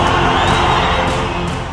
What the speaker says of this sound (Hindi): सामने बैठी भीड़ का शोर पूरे इलाके में गूंजने लगा